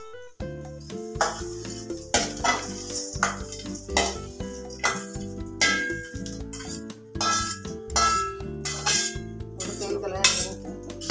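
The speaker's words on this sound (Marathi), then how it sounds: "आता मी हे सगळं याच्यामध्ये मिक्स करते." A spoon clinks and scrapes against a bowl while fried chilli is mixed with other ingredients for a fasting recipe, the metal chinks coming in a steady, close rhythm with faint sizzling beneath.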